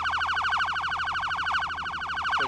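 A video game police siren in its priority setting pulses in a fast, steady, unbroken warble, loud and close, holding the same rapid rhythm from start to finish.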